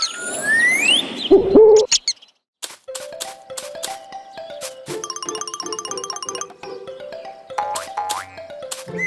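A cartoon ball knocks a toy pyramid apart, scattering its colored rings with bouncy boing and hoot-like effects; a loud crash-like burst opens, then a run of short bright tonal plinks and steps in a playful rhythm, with no talking.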